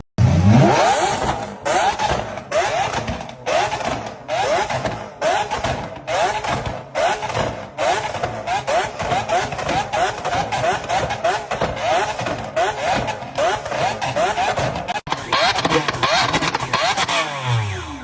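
Supercars rev at a performance shop in Orlando in a loud, continuous stretch of engine noise, with repeated throttle blips and rough idling echoing close by for most of the clip.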